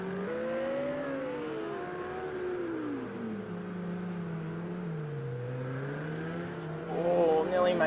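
GT3 race cars, a Lamborghini and a Ferrari among them, circle the Azure Circuit in Project Cars 2, engines whining and sweeping up and down in pitch as they shift, under steady race commentary.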